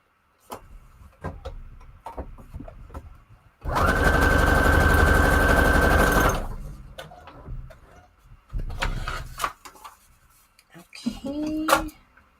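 A sewing machine stitching sheets of paper together runs in one loud, steady burst of about three seconds, with shorter whirring runs before and after; quiet talk comes in between the runs.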